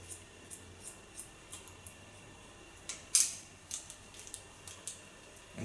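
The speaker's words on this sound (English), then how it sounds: "Take the hairs up from the front, lay them on the rounding of the skull, go in slice cutting." Scissors slice-cutting hair close up, a steady series of soft crisp snips at a regular rhythm, with one louder sharp snip midway and no talking.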